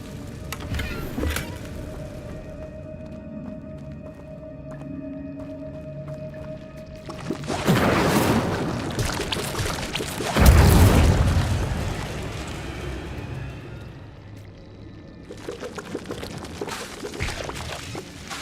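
The Incendio fire spell is cast in the video game Hogwarts Legacy, giving a loud whooshing burst and a deep rumbling boom over a quieter, tonal game soundscape, then fading out.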